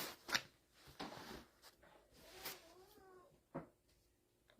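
A cat meows several times indoors, with short plaintive calls scattered among clicks and rustles, faint and close.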